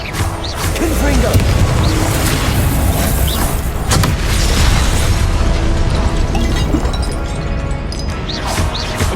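A Confringo blasting curse in Hogwarts Legacy bursts with loud booming explosions and crackling impacts amid dense combat noise, with voices talking over the blasts.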